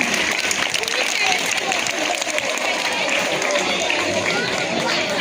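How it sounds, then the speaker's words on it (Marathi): Crowd of students, teachers and parents clapping to welcome new pupils on the first day at a Marathi school's entry festival, a steady dense wash of applause throughout with faint chatter mixed in. "तर पहिले त्यांच्यासाठी एकदा जोरदार टाळ्या वाजवून आपण त्यांचं स्वागत करूया"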